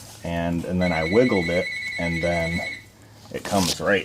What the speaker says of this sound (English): excuse the phone ring in there